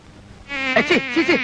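Close, insistent buzzing of flies, the whining drone wavering up and down in pitch as they hover near.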